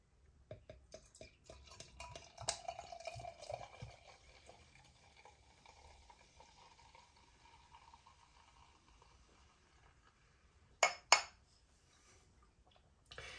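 Dutch double barrel-aged beer from Brouwerij De Dochter Van De Korenaar pours into a glass with a faint, soft trickle and fizz, punctuated by a few light clinks and a sharp glassy knock near the end.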